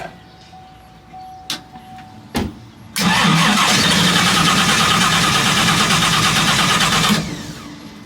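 A hot rod car cranks with a couple of short bursts, then fires up and revs loudly and steadily for several seconds before the throttle eases off, up close with no talking.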